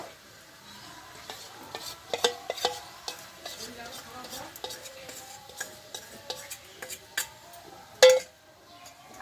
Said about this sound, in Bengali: কিছুক্ষণের জন্য এভাবে আমি একটু নাড়াচাড়া করে নেব